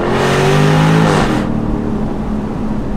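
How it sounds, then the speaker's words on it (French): A Jaguar F-Type R P575 convertible's V8 roars hard under acceleration, loud and close with rising engine pitch, then cuts abruptly to a lower, steady rush after about a second and a half. "planter votre pied sur l'accélérateur pour profiter de la violence du V8"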